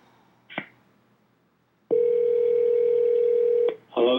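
A telephone call connecting tone, a single steady electronic tone held for close to two seconds, loud and clear, with brief voice fragments just before and after.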